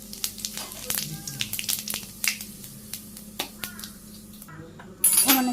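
Bay leaf and cumin seeds hitting hot oil in a wok: a crackling sizzle with sharp pops and spits close by, loudest near the end as oil flares.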